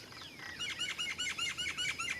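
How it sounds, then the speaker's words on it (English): A cuckoo calls in the Indian countryside with a rapid series of about eight repeated, descending whistled notes in an even rhythm. The call is faint and distant over a soft outdoor hiss. "there is a cuckoo again, and I'd love to hear its call again"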